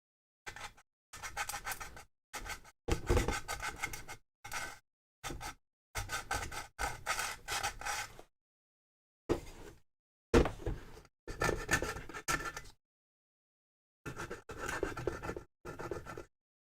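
Paint being scraped off a vintage artist's palette: repeated bursts of rough, gritty scratching and rasping strokes, some short and some sustained for a second or more, separated by brief pauses, close by and with no speech.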